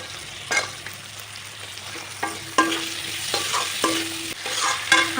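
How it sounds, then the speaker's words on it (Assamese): Cut potato pieces frying in hot oil in a home kitchen, a steady close sizzle with repeated scraping stirs of a spatula against the pan. "এতিয়া মই কাটি থোৱা আলুকেইপিচ তেলত দি ভালদৰে ভাজি ল'ম অলপমান সময়"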